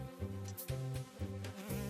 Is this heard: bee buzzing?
yes